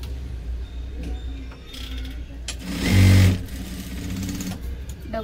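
A sewing machine stitches a double seam on a blouse shoulder, its motor whirring in a steady mechanical rhythm with a louder burst of fast stitching midway, close by and without speech.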